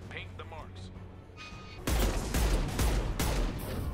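Gunfire in a firefight in the video game Mass Effect 2, Lair of the Shadow Broker DLC: after a stretch of quieter game sounds, loud rapid bursts of shots and heavy blasts erupt and continue in clustered volleys.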